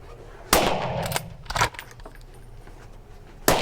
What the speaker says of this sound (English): So I've just shot again with the Vaughan